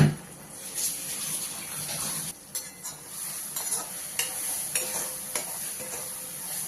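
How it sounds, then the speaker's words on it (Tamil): Thick mango halwa is stirred in a pan with a spoon scraping at a steady pace, soft sizzling and clinks running throughout. "இதை நல்லா கை விடாம அல்வா பதத்துக்கு கிண்டணும்"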